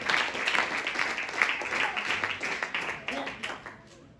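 Congregation clapping along at a church service, steady rhythmic claps filling the room with voices talking and calling out over them.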